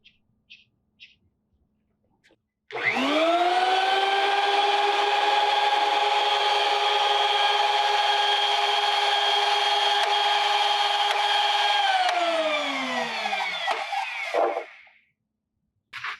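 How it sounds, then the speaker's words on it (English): A wood planer with a faulty gearbox gives a loud, steady mechanical whine with strong harmonic overtones for about nine seconds, then winds down with a falling pitch before stopping. "the planer is making the same sound that it was making before"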